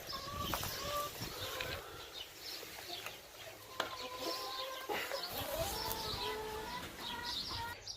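Chickens cluck and chatter in short, scattered calls at a moderate distance, over a quiet outdoor background with occasional faint clicks.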